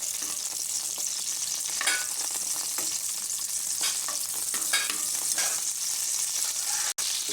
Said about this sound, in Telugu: ఇప్పుడు ఆయిల్ హీట్ ఎక్కిన తర్వాత ఇందులో మనం పచ్చిమిర్చి వేయించేసుకోవాలి.